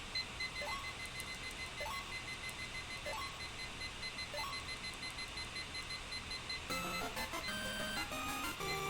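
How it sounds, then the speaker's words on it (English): A timer being set chirps with short rising beeps at a regular pace, roughly every second and a half. Then a louder, busier run of rapid electronic beeps and tones breaks out near the end, all over a constant background hum. "let's set the timer for 43 minutes."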